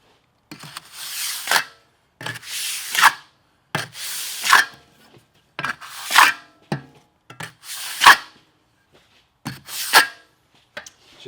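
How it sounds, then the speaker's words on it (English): A trowel floats dry pack mortar for a shower pan, seven or so separate gritty scraping strokes, each a short rasping swipe with brief silences between. "as long as the pressure is on the back edge of the trowel, it's going to really give you a nice smooth finish."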